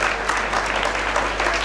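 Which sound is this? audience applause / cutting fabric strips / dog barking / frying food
audience applause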